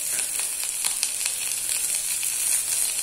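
A cup of chopped tomatoes sautéing in a pan over a medium flame gives a steady, close sizzle with faint crackles and no talking.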